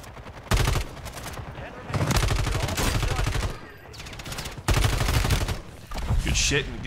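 A Ram 7 assault rifle in Call of Duty MW3 fires loud automatic bursts up close, four sustained volleys of rapid shots separated by brief pauses, with faint talk in between.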